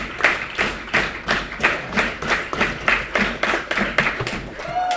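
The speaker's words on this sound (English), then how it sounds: "the fans starting to get a clap going for Kennedy" Baseball fans in the stands at a Hamilton Cardinals at Guelph Royals game clap in a steady rhythmic unison beat, about two claps per second, moderately near and sustained throughout.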